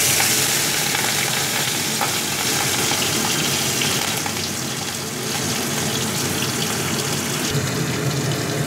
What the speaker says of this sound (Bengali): এইভাবে আমার মাছ ভাজা চলছে।